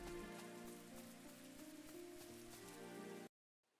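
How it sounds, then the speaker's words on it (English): Steady rain falls over the city of Tormund in the video game Chained Echoes, a dense even patter under a soft musical drone, cutting off abruptly near the end. "so we're going to go to the rainy city of Tormund."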